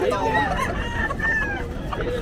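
Roosters crow amid the chatter of a busy Bocaue pet market selling fighting cocks, their drawn-out calls overlapping a crowd of voices and people talking nearby.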